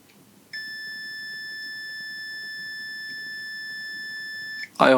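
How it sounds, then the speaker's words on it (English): A multimeter on continuity mode sounds one long, steady electronic tone while its leads touch a shorted capacitor on an M-Audio M-Track Solo audio interface board, clear and constant before a brief clatter at the end. "If I put my black lead on ground and go against the top, I get a beep"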